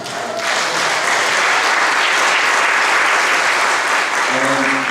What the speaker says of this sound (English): That's something worth clapping your hands to.